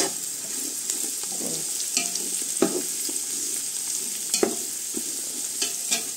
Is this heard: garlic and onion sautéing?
yes